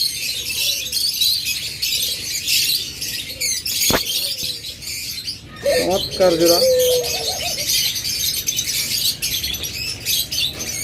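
A breeding pair of big lutino pet birds calls close by, a brief warbling call mid-clip standing out over constant chatter from other cage birds, while someone talks.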